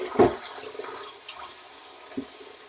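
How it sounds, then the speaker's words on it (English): Water is poured into a bowl of leeks for washing, a brief splashy gush at the start followed by quieter trickling and one small splash near the end, close by with no talk. "So what I will do, I will add water."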